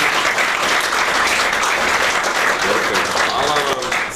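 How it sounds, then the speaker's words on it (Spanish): Audience applause at an evening talk, dense steady clapping from a full room holding strong for several seconds and thinning slightly near the end. "Ja mislim da je trenutak sada da jednim aplauzom da se zahvalim vašu."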